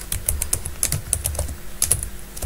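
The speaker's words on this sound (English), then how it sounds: "Typing and talking, not going to happen." Fingers tap quickly on a computer keyboard, the crisp clicks close and uneven in rhythm, running steadily with no talk over them.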